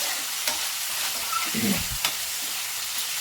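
A spoon scrapes and stirs chicken pizza topping in a frying pan, soft strokes over a steady sizzle, close and with no talking.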